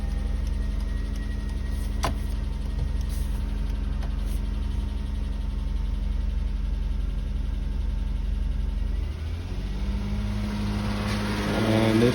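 A 1996 Toyota Camry wagon's 1MZ-FE V6 runs at a steady, close idle with a sticking accelerator linkage, and the revs climb near the end when the gas pedal is pressed.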